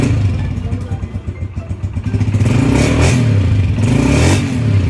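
A Honda CG 125 motorcycle engine idles in loud, steady close-up, its low rhythmic thumping briefly revving, with voices faintly mixed in.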